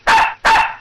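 A dog barks twice in quick succession, loud and close, each bark a short sharp burst, with the start of a third at the end.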